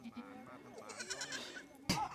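Goats at a goat farm behind the Pran Buri dam bleat in short wavering calls, moderately close amid outdoor ambience, with people chatting nearby and a sharp knock near the end.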